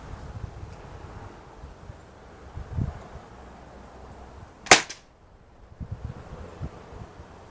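A single sharp crack from a Gamo Swarm .22 air rifle fitted with a new piston seal, fired once outdoors amid light wind and rustling, loud and near against quiet surroundings.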